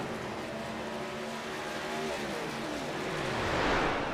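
A race truck at Dover lifts off the throttle, its engine note sliding down steadily and then swelling as it passes near, loud and continuous with a faint tire squeal and no voices over it.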